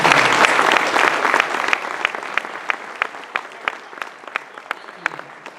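An audience at a mayoral candidate forum applauds, a dense burst of clapping that thins out after a couple of seconds into a few separate claps, fairly loud and nearby.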